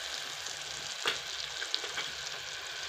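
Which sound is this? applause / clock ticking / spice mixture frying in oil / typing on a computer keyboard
spice mixture frying in oil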